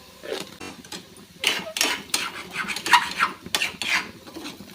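Ground dal sautéed in a pan over a low flame, a spatula scraping and tapping against the metal in irregular bursts, close and moderately loud with no talking.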